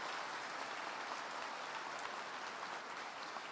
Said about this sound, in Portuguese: Dá um salve de palmas aí, olha, que benção que Deus está nos dando